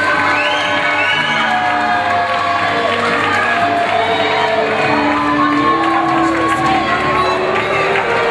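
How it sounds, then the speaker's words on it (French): An audience at the Miss Black Beauty France 2012 pageant cheers and applauds its candidates, a loud, continuous crowd roar laced with shouts and whoops. "Applaudissements pour toutes nos candidates,"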